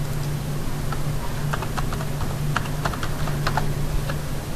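Keystrokes on a computer keyboard while entering values into CAD drafting software, a run of light irregular clicks over a low steady hum.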